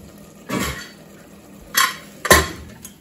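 A metal pan is set down and pushed aside off a stove after cooking goat mutton do pyaza, making three short clanks, the last the loudest, with no talking.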